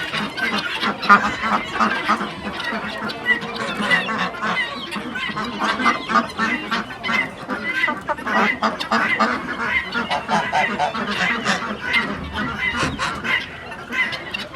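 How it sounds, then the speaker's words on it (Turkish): Turkeys call on a cold-day farm, a dense, continuous chorus of gobbling and clucking with honk-like poultry sounds blended in, fairly loud and close, with no clear speech over it. "Bunlar bizim Hintler"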